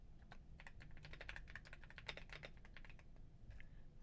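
Rapid, uneven clatter of fingers typing on a computer keyboard, a steady run of close, crisp keystrokes with brief pauses, heard alone without talk.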